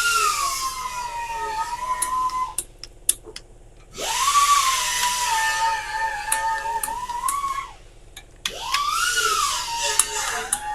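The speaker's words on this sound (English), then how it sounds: "We're using a 6-point socket" Power tool spinning a 6-point socket to tighten the head bolts on a slant 6 engine: three whining bursts that rise in pitch and then hold steady, with short pauses between them, loud and close.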